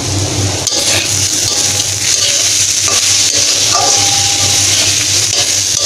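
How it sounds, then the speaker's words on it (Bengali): Kolai saag greens frying over medium heat in a pan, with the lid lifted and the greens stirred: steady close sizzling with scattered utensil scrapes and light clinks of metal. "ঢাকাটা তুলে আবার একটু নেড়ে দেব।"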